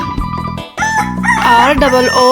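A rooster crows in a long, wavering cock-a-doodle-doo over a steady musical background.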